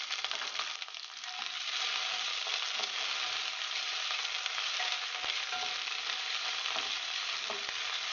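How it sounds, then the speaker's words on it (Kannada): Beans, capsicum and peas fry in a pan for a millet bath, a steady close sizzle broken by occasional scraping stirs, with no talking. "ತರಕಾರಿ ಸ್ವಲ್ಪ ಮೆತ್ತಗೆ ಬೇಯಿಸ್ಕೊಳ್ಳೋಣ."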